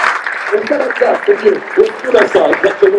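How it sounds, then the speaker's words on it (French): Crowd applause for a cyclist at the start of a women's Tour de France stage in La Gacilly, a patter of clapping running under an announcer's speech. "Les applaudissements pour Osmoa Ostalazu."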